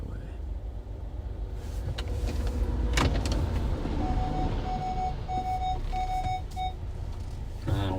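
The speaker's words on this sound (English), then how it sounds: "I don't know why my car's beeping at me." A car's warning chime beeps in a short run of evenly spaced tones inside the cabin during a South Dakota storm chase, over steady engine and road rumble with some voices nearby.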